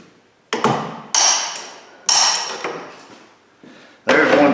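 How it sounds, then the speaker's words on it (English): A hammer strikes five times, each a sharp metallic blow with a ringing decay, staking the thin flange of an axle nut into the keyway on an 08 Subaru Forester. "This style axle nut has a thin flange on it you just knock down into the keyway."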